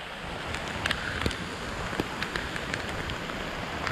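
Outdoor rain pours steadily near an open cooking fire, a constant hiss with a few louder individual drops and slight wind buffeting, no voices present.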